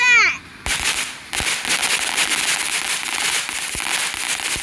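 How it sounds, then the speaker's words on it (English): Backyard fireworks go off on the Fourth of July, with a whistling rise and then a dense, continuous crackle of bursts that stays loud throughout, plus occasional sharper pops. "The not so crazy fireworks."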